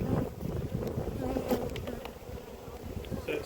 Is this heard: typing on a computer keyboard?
no